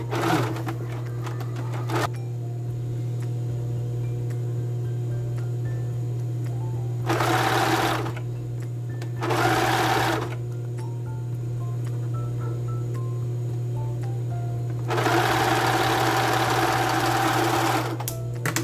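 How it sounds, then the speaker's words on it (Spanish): A sewing machine stitches the crotch seam of men's underwear made with embroidered lace, a steady motor hum broken by three louder bursts of fast, close stitching over about nineteen seconds. "Voy a coser la parte del entrepiernas."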